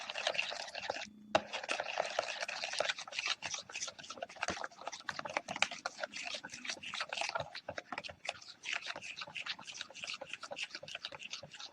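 Banana cake batter is beaten by hand in a bowl, a continuous rapid wet slapping and clicking that stays close and fairly even, briefly interrupted near the start, with no speech.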